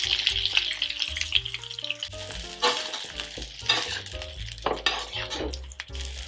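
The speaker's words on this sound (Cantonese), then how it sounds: "不停咁樣將鑊裏面嘅牛油淋喺個魚身上啊" Flounder frying in butter in a wok while hot butter is spooned over it, giving a close, lively sizzle with clinks of utensil on metal, under a soft music backing.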